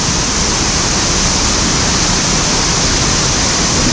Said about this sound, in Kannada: ಸುತ್ತ ನೀರು ಬೀಳ್ತಿದೆ ಅಂದರೆ ಈ ಕಡೆನೂ ಅಲ್ಲಿ ಇಲ್ಲಿ ಇಲ್ಲಿ ಇಲ್ಲಿ ಇದೆ ನೀರು ಬೀಳ್ತಾ ಇದೆ